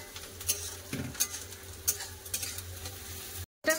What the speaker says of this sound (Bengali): পেঁয়াজটাকে ভালো করে লাল করে ভেজে নেব।